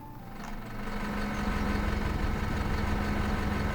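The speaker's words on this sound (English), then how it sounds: "the red tractor is going to the small field, the blue tractor is going to the bigger field" Tractors in the farming game Farm Manager 2018 drive out to the fields with a steady, low, droning engine hum that swells slightly and then holds constant, with no voices.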